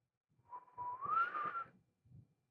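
A man imitates a low, moaning whistle with his voice, a single drawn-out tone that slowly rises in pitch, then a soft rustle after a short pause.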